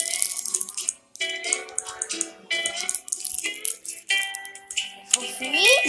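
Water splashes and sloshes in a pistol gun 3D video game, continuous bursts mixed with bright tonal game effects and a rising whistle-like tone near the end.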